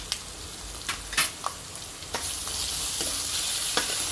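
Chopped carrot, cabbage, capsicum and chillies frying in a pan for Gujarati patra, a steady sizzle with several sharp scrapes and clinks of stirring.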